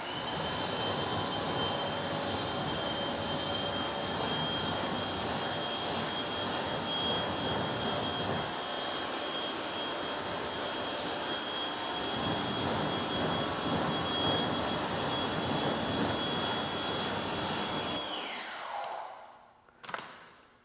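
A car wheel is rinsed with a steady, loud pressure-washer water spray that hisses continuously for about eighteen seconds before cutting off abruptly, followed by a few faint drips and handling noises.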